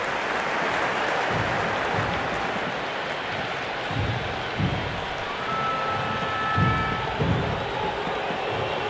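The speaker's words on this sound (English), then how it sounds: "There's a buzz, a real buzz coming from the stands." Crowd noise filling the stands at an IPL cricket match, RCB versus GT in Bengaluru: a steady roaring murmur of many voices with occasional swells of cheering.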